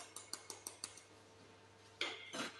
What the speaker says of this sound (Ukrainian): Для цього ми крохмаль з'єднуємо з цукром